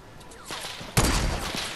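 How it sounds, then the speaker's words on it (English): Gunfire in Fortnite Battle Royale, a soft burst followed by a louder sharp shot and rattling volley, brief and close with no voices. "why is everybody shooting at us?"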